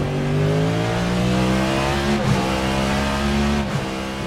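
Racing cars in Assetto Corsa: a steady, loud engine drone with several harmonic tones, held near constant pitch for the whole stretch, with brief dips as a car shifts or passes.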